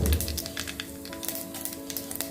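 Mustard seeds dropped into hot oil in a clay pot crackle and sizzle, a close, busy spatter of small pops over a steady low hum.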